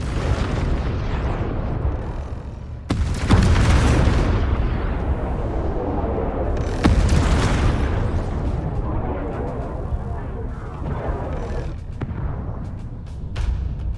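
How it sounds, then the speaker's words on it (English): Hull defense gun turrets on a mothership firing in the space strategy game Homeworld 3, heavy booming volleys over a continuous rumbling battle bed, with two especially strong blasts standing out amid the din. "Hull defense guns are active and engaging targets."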